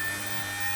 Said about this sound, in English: Dremel is now running.